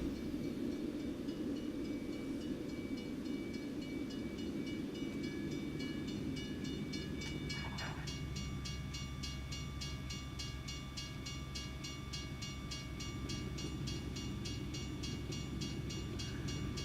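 A train in The Sims 4 video game rumbles past in a continuous low drone with a brief horn-like tone in the middle, steady and moderately quiet throughout.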